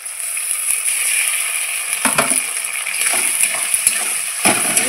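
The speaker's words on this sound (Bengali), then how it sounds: "আমি এখন বেটে রাখা মশলাগুলো ঢেলে দিচ্ছি।" Ground spice paste poured into lightly fried onions for mutton kosha sets off a loud steady sizzle, with a few wet splats and clatters as it lands in the pan.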